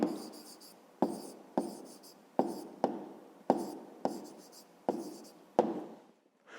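A pen writes an answer by hand on paper in a series of sharp, separate strokes, each one starting crisply and trailing off, about eight in all, close and quiet, with no talking.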